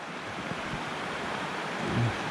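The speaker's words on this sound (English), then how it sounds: "I hope you can hear me over the water." Loud river water rushing over and around the Dovedale stepping stones, a steady broadband roar with some wind buffeting on the microphone, continuous and close throughout.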